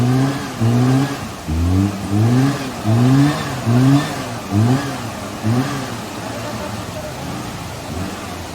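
A Maruti Gypsy off-road vehicle stuck on a rock revs its engine hard in repeated surging bursts, about eight rising roars that fade between pushes, loud and close with no talk.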